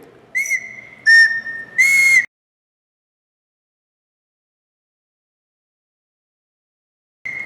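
A homemade whistle gives three short, shrill blasts in close succession, then falls silent before a fourth brief toot at the end, with no talk over it.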